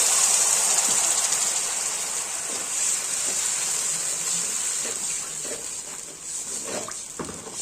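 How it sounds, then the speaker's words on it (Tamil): Water is poured into a pan holding sugar while sweet aval is being cooked, a steady close hiss and splash that runs throughout and fades slightly toward the end, with a few small clinks. "கொஞ்சம் தண்ணி ஊற்றிக்கலாம்"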